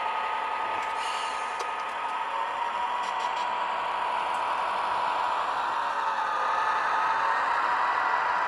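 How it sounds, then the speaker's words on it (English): A train locomotive engine runs steadily during railroad switching and mainline running, giving a continuous, broad droning roar with faint rattles and no talking. "I'm trying not to talk too much so you can enjoy the engine sounds."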